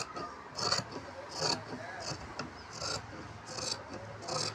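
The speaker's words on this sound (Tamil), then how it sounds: "இந்த பக்கம் நான் ரெண்டையுமே சேர்த்தே வெட்டுறேன்." Scissors cutting through two layers of fabric together for summer pants, giving repeated soft rasping snips in a steady rhythm, close and moderately quiet.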